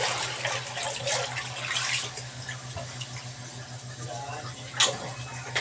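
Water runs steadily from a tap into a kitchen sink during dishwashing, a close, continuous splashing with a low hum beneath it and a couple of brief clatters.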